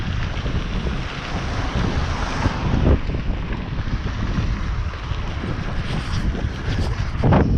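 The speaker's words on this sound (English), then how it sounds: "Overall good though, a little windy, definitely feels like fall out here" Wind buffeting the microphone on a bikepacking ride during a Vermont race in fall, a loud continuous roar with gusts, no talking.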